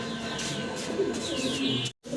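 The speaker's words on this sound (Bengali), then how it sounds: "লোটন কবুতর।" Lotan pigeons coo softly nearby, low rolling calls blending with a steady background hum and brief chirps before a short cut near the end.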